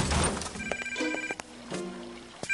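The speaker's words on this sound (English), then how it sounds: "I heard your desk ringing" Desk telephone ringing with short metallic bell trills, close and fairly loud, repeated in quick bursts in a cartoon scene.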